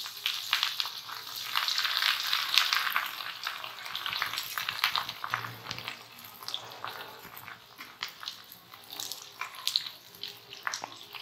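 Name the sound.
bread slices frying in hot oil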